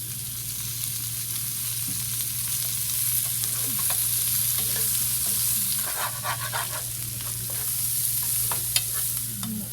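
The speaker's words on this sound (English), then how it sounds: "So I am going to add a little bit of oil to this. And because the pan is hot, it's okay" Snake beans fry in oil in a hot pan, giving a continuous close sizzle with occasional stirring clatter and small pops, steady throughout without talk.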